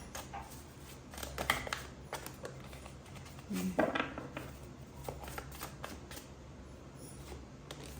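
Tarot cards are shuffled by hand in a quiet room, a soft, close riffling and patter of card edges with a few brief louder flurries, faint overall and without talk.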